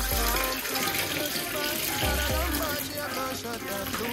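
Water is poured out of a kitchen container and refilled with fresh water while food is cooked, making a steady, close, splashing gush that runs throughout with small fluctuations.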